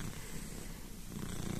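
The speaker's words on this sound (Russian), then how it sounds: "Ты мой мурчалка." A domestic cat purrs close by, a continuous low rumbling throb that holds steady throughout with no talk.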